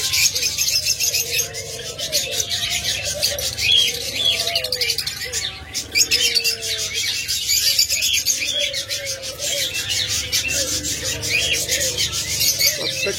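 Caged diamond doves and other small pet birds, including budgerigars and lovebirds, chirp and coo continuously in a busy aviary, with overlapping soft calls and steady chatter close by.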